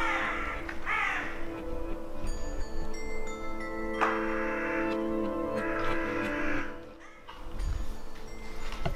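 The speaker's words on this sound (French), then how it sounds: "il m'a fait peur le corbeau" A crow caws inside an abandoned factory, several harsh calls ringing out over a steady tonal background hum, fairly close and clear with no talking.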